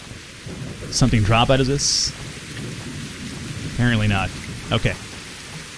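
Steady rain and rumbling thunder from the video game Better Late Than Dead fill the whole stretch as a constant wash, with someone talking in short bursts over it.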